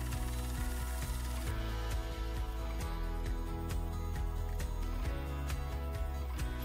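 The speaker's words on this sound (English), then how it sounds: "Purely for aesthetics, we will go over with a fly cutter all around." A fly cutter machines around a tripod platform for an action camera lens, giving a loud, steady metallic whir with a fast, regular ticking rhythm of repeated cutting strikes, and no talking.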